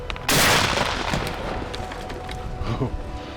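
A Benelli shotgun fires once at a turkey during a Mississippi hunt, a loud sudden blast that rolls off into an echoing tail, with a fainter thump later.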